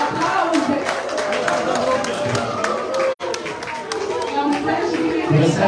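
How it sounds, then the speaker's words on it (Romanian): A crowd at an outdoor Romanian National Day celebration on 1 December claps and cheers for a performer coming on stage. The dense, steady noise of many hands and voices carries on throughout, with a brief dropout midway. "Aplauze!"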